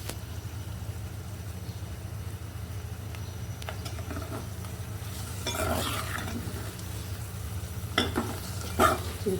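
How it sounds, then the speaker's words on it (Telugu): Tender tamarind leaves being stirred into a frying pan curry, a quiet steady sizzle with a low background hum and a few soft scraping bursts from the spoon later on. "చింత చిగురు వేసుకొని ఇలా బాగా కలిపేసుకోండి."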